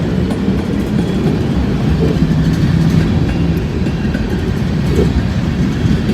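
A train rumbles past close by on a rainy day, a loud continuous roar with faint clattering of wheels on the rails.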